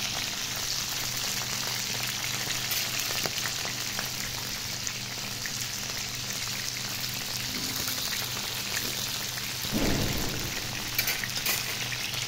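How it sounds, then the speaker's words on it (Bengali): Cauliflower frying in hot oil gives a steady, dense sizzle that runs unbroken throughout, with a brief louder crackle near the end. "এখন ফ্রাই করবো ফুলকপি"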